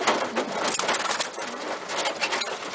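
Racing pigeons coo steadily inside a loft, a dense overlapping chorus of soft throaty calls close by, continuous throughout with no voices.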